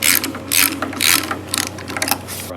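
Ratchet wrench working a 13 mm nut on the alternator strap of a 1965 VW Beetle engine: close, loud clicking ratchet strokes in a quick series of about five pulls.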